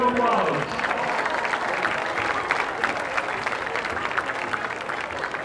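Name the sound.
crowd applause at football game ceremony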